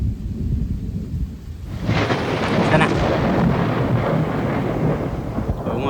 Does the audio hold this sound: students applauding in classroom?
no